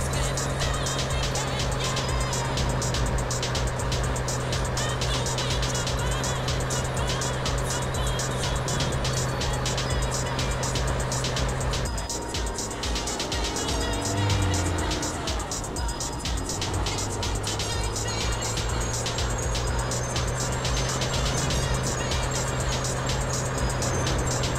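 A car races in GTA San Andreas with a continuous engine roar and road noise, a brief swerve with tire squeal midway, and voices speaking faintly in the background.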